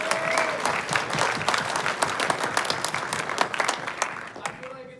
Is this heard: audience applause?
yes